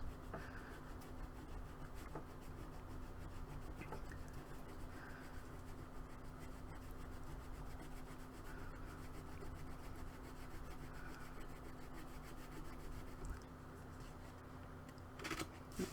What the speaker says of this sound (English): you'll eventually just start shaving away the eraser, and it will be pure white pretty much.